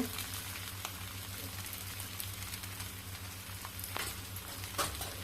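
Chole masala sizzling and frying in a pan with light scraping stirs, a soft steady crackle at low level.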